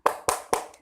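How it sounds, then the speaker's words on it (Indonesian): Three sharp, evenly spaced hand claps from a primary school class doing a rhythmic spirit clap, crisp and close with a faint fourth tap at the end. "Tepuk semangat."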